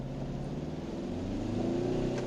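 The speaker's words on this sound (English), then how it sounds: "Left foot on the brake, right foot on the accelerator. Revs up to almost 2000 RPM." A 2020 Tata Harrier SUV engine hums and revs up steadily to almost 2000 RPM against the brake, its pitch climbing as the throttle is held, close by and with no talking.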